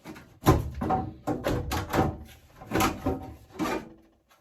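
Front cover coming off a gas boiler: a series of close plastic and metal knocks, rubs and clunks in uneven rhythm, then quiet.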